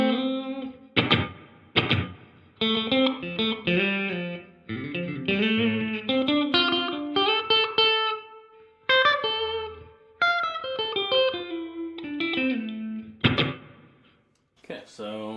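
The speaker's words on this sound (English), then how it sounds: "Okay, so it's a bigger plate reverb. I've got midway through for the decay" Guitar played through a Donner delay and reverb pedal set to a bigger plate reverb with medium decay: a string of picked notes and chords in short phrases, with a lingering wash trailing each burst and brief gaps between them.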